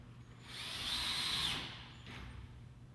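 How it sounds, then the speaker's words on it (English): Power drill driving a screw into a heatsink kit board, a single close whirring burst that rises and fades over about a second, followed by a faint brief second whir. "Install the screws along the board's outer edges every 10 inches."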